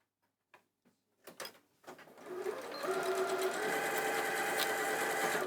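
A sewing machine stitches around the outside of a bag, starting with a few short bursts and knocks, then settling into a steady, close, continuous whirring drone.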